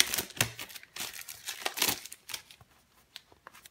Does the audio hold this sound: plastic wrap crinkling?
yes